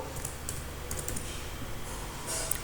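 Fingers tap out a short word on a computer keyboard, a quick run of light clicks over a steady low hum, close and fairly quiet.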